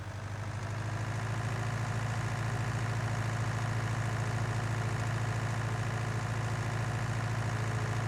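Tractor engine idling in Farming Simulator 19, a steady low diesel rumble with a constant hum that fades in at the start and stays even, close and unbroken.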